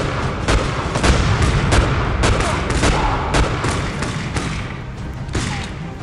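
Video game gunfire rattles on continuously as repeated thumping shots and booms over a dense noisy mix, loud and close throughout, with faint voices mixed in.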